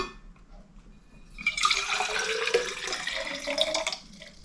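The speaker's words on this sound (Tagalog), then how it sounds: "meron akong hinandang medyo mainit na tubig dito. Lalagyan natin mga amigos." Hot water pouring into a digital temperature water bottle, a sustained splashing gush that builds after a quiet start, runs steadily for a couple of seconds and then tapers off, close and fairly loud.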